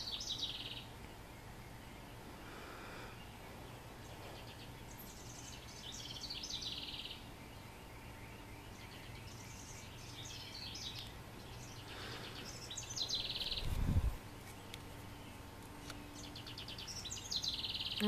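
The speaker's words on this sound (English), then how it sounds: "I wish you guys can see the birds," Small birds chirp and sing outdoors in scattered, fairly faint high calls over a steady background hum, with a brief low thump near the end.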